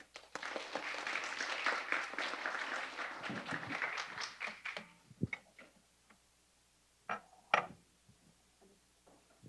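Lecture-hall audience applauding after a talk, a burst of scattered clapping that thins out after a few seconds into sparse, separate claps and a few knocks.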